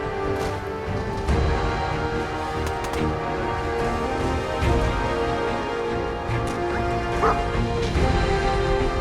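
A dog barks repeatedly in Fallout 4, short woofs and yips over a steady background of game ambience and music.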